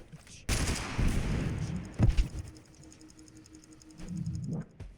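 Gunfire rattles in the battle-royale video game Totally Accurate Battlegrounds, one long loud burst of rapid shots, then a short second volley, with a brief voice near the end.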